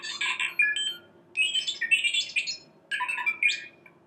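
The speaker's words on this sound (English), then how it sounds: "and we'll have them make different noises" Star Wars Droid Inventor Kit droid plays three bursts of warbling, chirpy electronic beeps and squeals, each about a second long and separated by short pauses, fairly close and clear with no talking.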